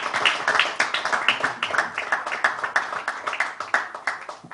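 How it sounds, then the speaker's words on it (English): Steady applause with dense clapping from an audience at a sports press conference for a pickleball championship, continuous and fairly loud throughout. "big round of applause for Pranav Rohira"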